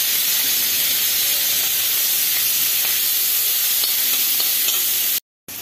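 Chopped onions frying in hot oil in a pan while a dried fish curry is cooked, giving a steady, close broadband sizzle that runs without pause before cutting off abruptly.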